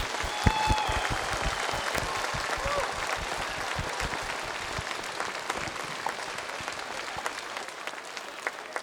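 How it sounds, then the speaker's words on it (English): Sustained applause from an audience at a school Independence Day program, clapping for participants, dense and continuous, fairly distant and moderately quiet, thinning slightly toward the end. "Can we have one final round of applause for all the participants today?"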